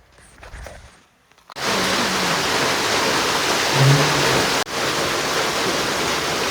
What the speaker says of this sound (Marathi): पावसानं कमबॅक चांगला केला आपण